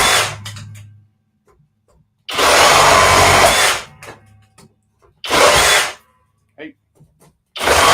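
DeWalt and FLEX reciprocating saws cutting through wood, in loud close bursts of roughly one to two seconds with short gaps between them, and people talking briefly between cuts.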